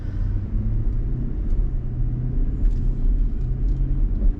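Low, steady road rumble inside an Infiniti QX80 Limited while driving, a continuous dull drone of tires and engine with no voices.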